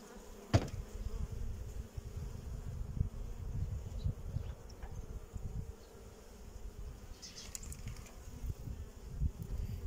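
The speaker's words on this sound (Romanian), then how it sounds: "Pe această ramă albinele se comportă, a spune, normal." Honey bees buzz steadily on a hive frame during a hive inspection, a close, continuous low drone with occasional louder passes and light handling knocks.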